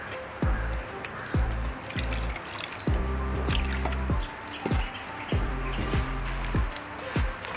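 Water trickles and drips in short bursts into onion bonda batter, with irregular sloshing and soft knocks as the batter is kneaded by hand nearby.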